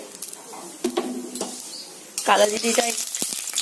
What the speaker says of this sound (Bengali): এরপর এই তেলের মধ্যে দিয়ে দেবো কালো জিরে।